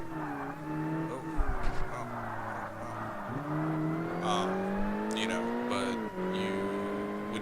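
A Ford Focus race car engine in the racing video game Forza Motorsport drones and revs steadily with shifting pitch through gear changes, with brief tire squeal, under a voice talking.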